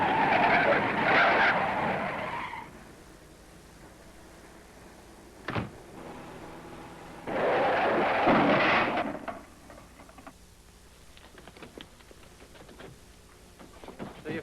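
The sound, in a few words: car braking hard and skidding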